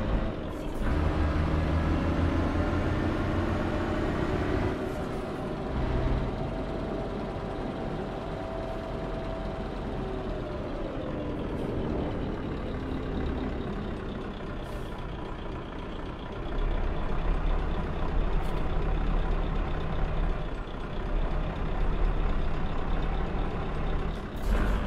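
In a truck simulator game, a semi-truck hauling a tandem double trailer drives with a steady, loud diesel engine drone and rumble that rises and dips as gears change, with occasional clicks and no talking.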